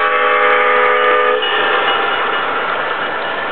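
A freight train passes on a curved hill, loud and near, as a steady horn-like tonal blare gives way to a broad rumbling roll of wagons.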